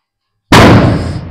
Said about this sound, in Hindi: ये पटाखे चल रहे हैं अभी